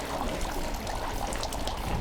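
Water trickling and splashing into the stone hand-washing basin at the entrance of Meiji Jingu shrine in Tokyo, a soft, continuous flow heard close by.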